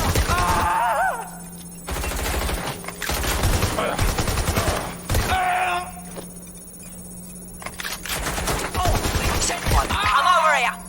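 Gunfire during a Watch Dogs: Legion firefight, with sharp bursts of shots in clusters spread over the stretch, loud and close, mixed with game voices and radio chatter.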